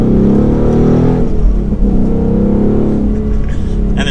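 Ford Mustang Mach 1 with manual transmission and handling package, its engine exhaust a deep, loud, close rumble that swells and eases as the revs shift, running throughout.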